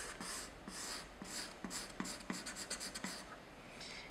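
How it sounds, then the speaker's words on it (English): Charcoal drawn across an encaustic board surface, a rhythmic series of scratchy strokes, close and soft, each pass a short rasp repeating at a steady pace. "you can come in and see how nice and deep your lines of"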